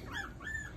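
Small puppy hidden under a couch letting out two soft, high whimpers in quick succession, faint and close in an otherwise quiet room.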